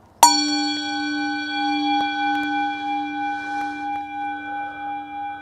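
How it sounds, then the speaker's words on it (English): A gong is struck once and rings out loud and close, a sustained pure metallic tone that slowly pulses and fades over several seconds with no talking. "Here's the gong."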